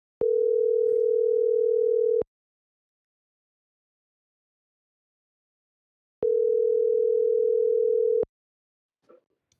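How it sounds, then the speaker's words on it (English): A telephone rings out while calling someone: two steady, loud tones of about two seconds each, separated by a long silence. "So you think Paige is going to answer her phone?"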